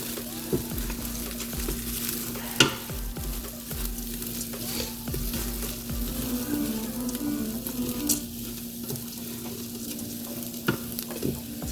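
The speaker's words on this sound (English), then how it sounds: "you want to just keep stirring, make sure that it does not burn. That rice is tricky." Rice stirred and frying in a pan, a steady sizzle with scraping strokes of a utensil at irregular intervals, close and continuous, no voices.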